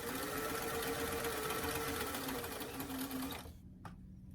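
A sewing machine runs a straight stitch along a doll t-shirt, a loud continuous close whir that stops abruptly near the end, followed by a couple of light clicks.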